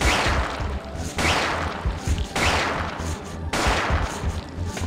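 Gunfire in the video game Parasite Eve 2: four sharp, loud shots at an even pace about a second apart, each one ringing out briefly before the next.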